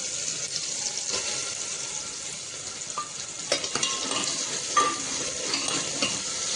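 Chopped onion sizzles steadily in a pan for a village-style black-masala mutton, with a continuous frying hiss and occasional clinks and scrapes of a stirring spoon.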